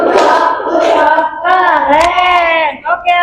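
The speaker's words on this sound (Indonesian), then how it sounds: "Kasih tepuk, good job." An Indonesian classroom gives a round of applause for a pupil after a group presentation: steady hand clapping from many students, mixed with children's voices chanting and calling along for about three seconds.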